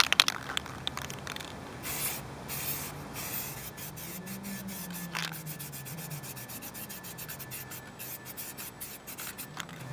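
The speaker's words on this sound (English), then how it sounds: "This is high temperature spray paint." High-temperature spray paint hisses from a can onto a brake drum, a close, steady broadband spray with short pauses between passes.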